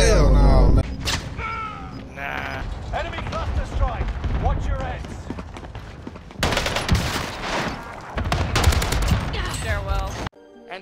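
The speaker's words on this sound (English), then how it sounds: "Taking shots." Rapid bursts of gunfire ring out in Warzone, a machine-gun fusillade interspersed with single shots, loud and close, running under a player's talking with a sudden cutoff near the end.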